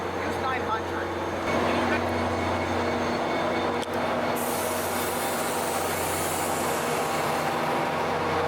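A Caltrain F40 diesel locomotive and gallery cars pull into 4th and King Street station in San Francisco, steady engine drone and rolling wheel noise with brief squeals, loud and close, as voices are heard throughout.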